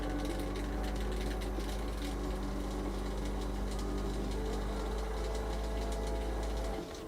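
A model paint bottle with a bolt inside is shaken hard and continuously, a dense rapid rattle at close range that stops abruptly near the end.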